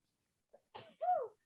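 A single short sneeze, close and fairly quiet, preceded by a quick intake of breath.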